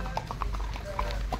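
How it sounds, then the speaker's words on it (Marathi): Horse hooves clip-clop at a steady, uneven walking rhythm close by on a trail at Matheran hill station, with a low background hum beneath. "ए घोडे थांबव रे, मला भ्या वाटतं या."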